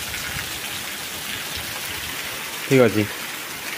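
Heavy rain falling outdoors at a village house, a dense steady hiss of downpour throughout, with a person briefly speaking near the end.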